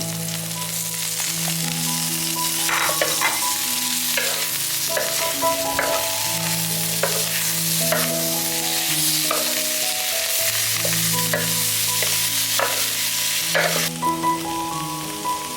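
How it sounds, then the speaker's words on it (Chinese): Pickled cabbage stir-fried in an electric pan, with a steady sizzle and repeated scraping stirs throughout; background music plays underneath. "我用那个电锅炒。 把这个酸菜倒进去。"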